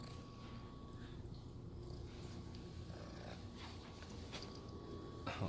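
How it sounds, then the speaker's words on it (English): A house cat purrs at close range in a room with a planted 20-gallon aquarium, a steady low rumble running continuously under faint background hum, with a brief louder rustle near the end. "Oh, you're purring, huh?"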